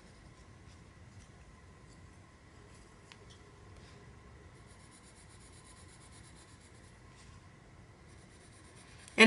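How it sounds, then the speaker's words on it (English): Dark umber coloured pencil shades on paper in a soft, steady scratchy rubbing, close and quiet, with a sharp knock at the very end and no talking. "And as you can see, I'm just kind of turning my pencil."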